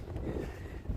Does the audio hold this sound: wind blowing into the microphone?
yes